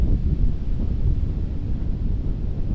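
Steady low rumbling wind buffets the microphone outdoors on a golf course, a continuous close roar with no break.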